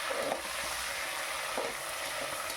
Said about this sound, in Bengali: মাংসগুলো ভালো করে ভেজে আমি তুলে রেখে দিচ্ছি